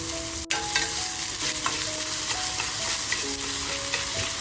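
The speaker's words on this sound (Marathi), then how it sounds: "लगेचच बघा आपला जो कांदा आहे तो कांदा छान आपल्याला लसूण बरोबर फ्राय करून घ्यायचा आहे." Onion and garlic fry together in a pan over a lowered flame for a dry prawn dish, making a continuous close sizzle with stirring. Faint steady tones run underneath, and nobody speaks.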